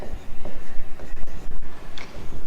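Pen writing out a solution by hand on paper, steady scratchy strokes with short pauses between them, close and fairly loud with no talking.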